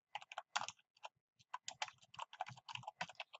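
Typing on a computer keyboard while working in a Microsoft Excel spreadsheet: a quiet, close run of irregular key clicks in quick bursts with brief pauses, no talking.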